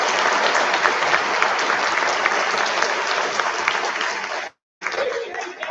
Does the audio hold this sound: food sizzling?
no